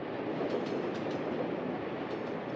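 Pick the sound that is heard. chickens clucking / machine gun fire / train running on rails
train running on rails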